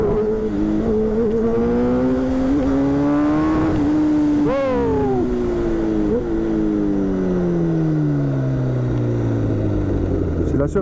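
A Kawasaki Ninja ZX10R sportbike rated at 212 horsepower accelerates hard, its engine pitch climbing through the gears with brief dips at each shift, loud and close throughout, and a voice talks over it.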